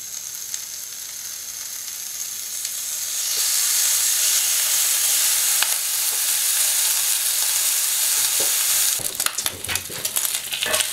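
Bacon laid into a hot pan on full heat, a loud steady sizzle that swells after a few seconds and then crackles and spits more sharply near the end.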